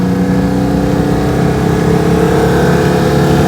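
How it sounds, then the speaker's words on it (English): An upgraded Citroën 2CV engine pulls up from low revs, a loud, steady, buzzing mid-pitched drone with layered harmonics building evenly under acceleration, heard alone. "just the way it picks up from low revs is so much better"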